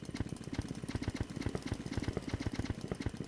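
A car engine in the driving game Jalopy, running fast with a steady rapid mechanical pulsing, close and continuous with no talk over it.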